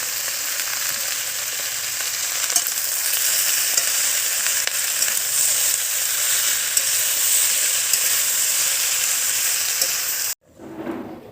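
Green chilli paste, tomato and dried chilli sizzle and fry steadily in a pan, a loud continuous hiss with occasional stirring clicks, cutting out abruptly near the end.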